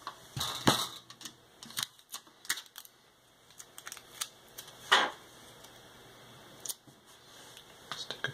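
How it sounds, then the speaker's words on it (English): A strip of adhesive tape is torn and pressed down by hand, giving scattered close clicks, crackles and a sharp rip near the middle. "Stick a piece of tape to hold it in place,"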